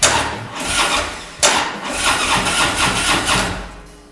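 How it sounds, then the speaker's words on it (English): Starter cranking an engine on a cold lithium-ion battery at about 25 degrees, a loud steady rhythmic churn that pauses briefly and resumes, continuing for several seconds without catching. "I'm going to hit the starter for about 5 seconds."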